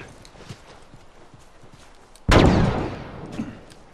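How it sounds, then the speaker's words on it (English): A single sharp, loud gunshot blast from The Last of Us game erupts midway, with a reverberant tail trailing off after a stretch of quiet background ambience. "Where's he shooting?"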